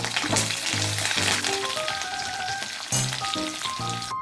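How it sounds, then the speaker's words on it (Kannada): Green chillies, a small onion and curry leaves dropped into hot oil for bread uppittu, crackling and spluttering loudly up close with repeated sharp pops over a dense sizzle. "ಇದಕ್ಕೆ ಹಸಿಮೆಣಸಿನ್ಕಾಯಿ, ಒಂದು ಸಣ್ಣ ಈರುಳ್ಳಿ ಮತ್ತು ಕರಿಬೇವು ಹಾಕಿ ಹಾಕ್ತಾಯಿದ್ದೀನಿ"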